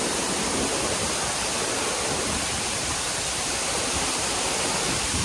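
Vera Falls roars in a dense, unbroken rush of falling water, loud and close, with no voices.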